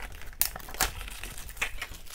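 A little plastic bag crinkles in short, close, dry bursts, a couple of sharper rustles standing out against quiet handling noise.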